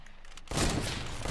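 A heavy sniper rifle fires in Fortnite, a single loud broadband blast that opens abruptly and then rolls on as a sustained, dense roar of gunfire and rumble with no voices.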